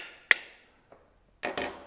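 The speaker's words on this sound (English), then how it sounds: "we just go ahead and take our nylon tipped hammer and just tap it in" A nylon-tipped hammer taps a plastic pin into a pistol trigger housing: one sharp, close tap, a faint light knock, then a pair of quick taps near the end, with quiet between them.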